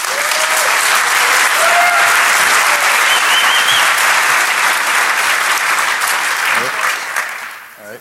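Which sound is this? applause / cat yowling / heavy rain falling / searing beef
applause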